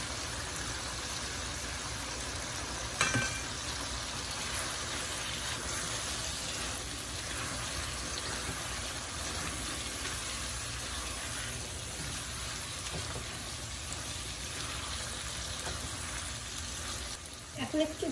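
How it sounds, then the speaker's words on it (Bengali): Shrimp sizzle and fry steadily in a pan with cucumber that has already been cooked down, a constant crackling hiss with a brief knock of utensil partway through. "এখন আমাদের চিংড়ি মাছ, সেই চিংড়ি মাছটা এর মধ্যে দিয়ে দিচ্ছি"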